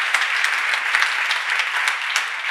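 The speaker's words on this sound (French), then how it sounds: "Donc on peut les applaudir effectivement." Award ceremony audience applauding at a women's innovation trophy presentation, dense continuous clapping from a crowd, fairly loud and even, with no voices over it.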